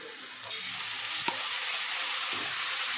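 A spice paste of cumin, chilli and turmeric hits a hot pan with a steady, hissing sizzle, punctuated by a couple of brief stirring knocks, near and fairly loud.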